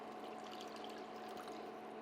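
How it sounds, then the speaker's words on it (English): Water poured from a cup into a simmering sauce for a vegetarian Afghan-style dish, a steady, close splashing flow that runs unbroken and fairly loud with no talking. "To this, we're going to add 1 cup of water."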